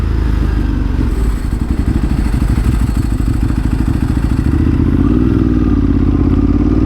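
A Ducati 1098S motorcycle engine runs loud and close, its steady rapid firing pulses rumbling low with mechanical clatter throughout, rising slightly toward the end as if revved.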